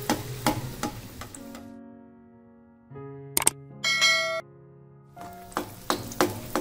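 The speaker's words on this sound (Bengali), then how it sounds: "একইভাবে বাকি পিঠেগুলোকেও আমি ভেজে নিচ্ছি।" Spicy Bangladeshi egg pitha, batter measured out by cup, fries in hot oil with a soft crackling sizzle that fades in and out beneath a melodic background tune, with a few faint clicks.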